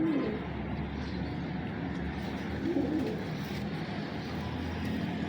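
Steady low cooing from a close female Teddy pigeon of the Lakha line runs throughout, swelling slightly at a couple of points against a constant ambient murmur, with no voices.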